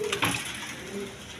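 A pair of crested Moslodom pigeons gives a few soft, low coos, close by and quiet, with faint background noise throughout.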